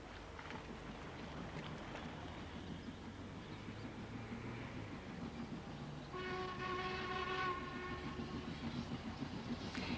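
A train running on the railway line into the seaside resort of Minehead, a steady rumbling roll that grows louder partway through as a sustained horn or whistle tone sounds, with no voices.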